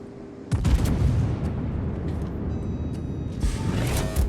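The battleship Mutsu, a Tier 6 Nagato-class ship in a naval video game, fires heavy gun salvos: a loud boom, then a steady rumbling roar and a second burst near the end, with no talk.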